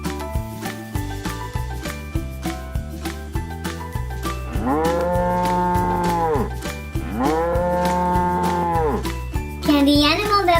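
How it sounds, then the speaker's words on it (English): A cow moos in two long, loud, drawn-out calls, preceded by a rhythmic bouncy tune in a children's farm animal sounds game. "Looks like it was the cow."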